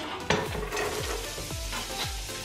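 Onions go into a hot pan and begin frying, with a sharp drop-in sound followed by a steady sizzle and a few rhythmic scrapes and taps of stirring, close and alone.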